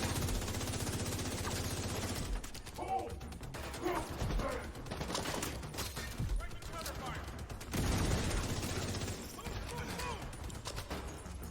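Gunfire bursts from a firefight in The Division 2, repeated volleys and clattering shots in uneven clusters, with mechanical clicks, mixed under voices talking over the action.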